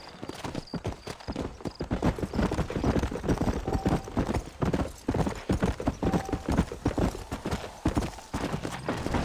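Horse hooves galloping in a fast, steady clip-clop in the Red Dead Redemption video game, loud and close, with faint whinnies and a soft voice now and then.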